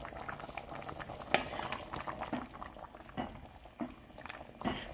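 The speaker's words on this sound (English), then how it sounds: "Go ahead and stir this around." A pot of fideo noodle soup boils and gets stirred, with continuous bubbling and gurgling and soft scraping sloshes at intervals, close and fairly quiet.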